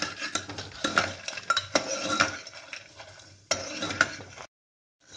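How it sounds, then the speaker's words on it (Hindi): Dried lentil badi dumplings frying in hot oil in a ladle-deep pan: sharp metallic clinks and scrapes of a spoon stirring against the pan over a light sizzle, close, ending abruptly in silence. "अब इसमें हम डालेंगे ये बड़ियाँ। इनको हमने भूनना है ब्राउन कलर आने तक।"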